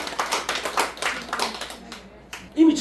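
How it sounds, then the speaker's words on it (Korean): Scattered audience clapping breaks out during a Buddhist dharma talk, with a short cluster of hand claps that tapers into quiet and then a louder thump at the end. "박수를 좀 쳐야 돼"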